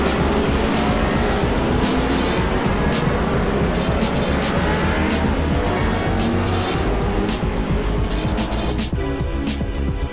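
A field of race cars in Assetto Corsa rolls around Mugello on the pace lap, engines droning loud and continuous as a dense pack, with a steady roar and wind-like wash throughout.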